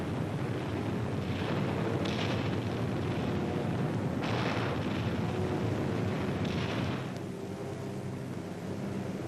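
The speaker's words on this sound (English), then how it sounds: "This B-26 drops a stick of 16 250-pound instantaneous general-purpose bombs on enemy beachhead installations" A stick of sixteen 250-pound general-purpose bombs from a B-26 bomber exploding on enemy beachhead installations, a dense rumbling roar with repeated rolling blasts, then easing slightly near the end; no speech.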